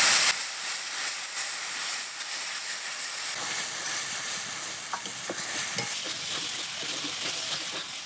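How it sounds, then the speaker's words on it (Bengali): Spice paste of ground cumin, coriander and turmeric fries in a pan, a constant close sizzle and hiss with occasional stirring scrapes and small pops. "আর দিয়ে দেবো পরিমাণ মতন হলুদ দিয়ে মশলাটাকে আমি ভালো করে কষিয়ে নেব"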